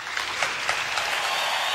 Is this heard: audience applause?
yes